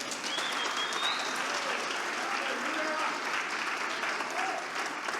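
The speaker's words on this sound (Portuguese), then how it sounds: "Eu, se eu fosse você, aplaudia Jesus." A church congregation claps together in continuous, even applause that holds steady throughout, with faint voices blended into the crowd sound.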